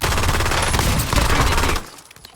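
Rapid automatic gunfire from a Call of Duty match rattles in a loud, dense burst for nearly two seconds before cutting off into quieter game ambience.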